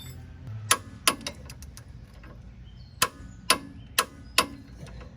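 A torque wrench clicking as the rear adjustable track bar bolts on a Jeep are tightened to 90 foot-pounds, giving sharp, separate metallic clicks in irregular bursts, close up in a quiet workshop.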